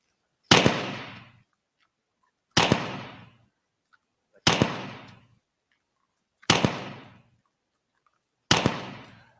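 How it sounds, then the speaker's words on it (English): Five loud, sharp shots from a loaded personal security weapon device, evenly spaced about two seconds apart, each a sudden crack with a short decaying tail, alone with no talk. "And now we're ready to shoot our device."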